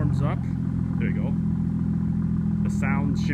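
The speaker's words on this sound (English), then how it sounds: "What you just heard was from a brand new cold start after a few days of non-use." A 2017 BMW 340i xDrive's inline-six turbo engine idles after a cold start with a low, even rumble throughout, while a person talks briefly over it near the start and again near the end.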